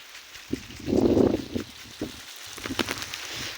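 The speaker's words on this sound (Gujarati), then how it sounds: "જો મિત્રો મારો ફોન પણ ફુવારાએ પલાળી દીધો છે" Farm sprinklers throw water in a rain-like spray, giving a soft, steady patter with one louder rushing swell and scattered drips and taps close by. No voices.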